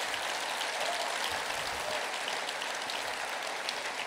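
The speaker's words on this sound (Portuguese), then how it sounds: "Vamos dar um aplauso ao Senhor Jesus, porque Ele merece." Church congregation applauds in a dense, even wash of clapping, fairly distant and steady for the whole stretch with no voices on top.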